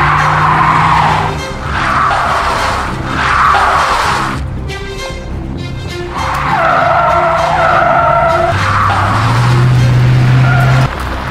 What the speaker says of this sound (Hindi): गाड़ी स्टार्ट कीजिए, मैं धक्का देता हूँ।